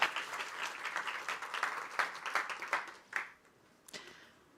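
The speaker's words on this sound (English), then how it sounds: "Hand of applause." Conference audience claps for several seconds, a lively patter of hands that thins into a few scattered, fading claps near the end.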